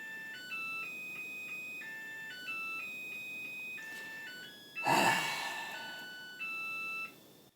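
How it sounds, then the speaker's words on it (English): A Makita battery charger plays its electronic jingle of beeping tones, with a short pause partway through, and a brief breathy gasp in the middle, heard close and fairly faint. "Man, I hate Makita chargers."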